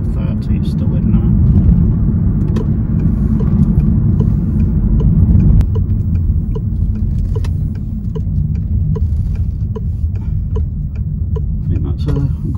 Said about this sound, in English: So I'm accelerating now in full electric mode.